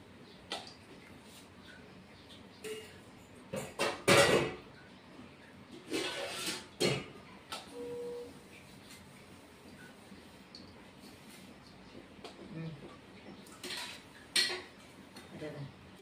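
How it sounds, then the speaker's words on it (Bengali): Knife chopping bottle gourd stalks on a board in a home kitchen, giving a few sharp, close clacks and taps scattered through a quiet room. "এইভাবে করে বন্ধুরা আমি সব ডাটাগুলি, লাউয়ের ডাটা কেটে নিব।"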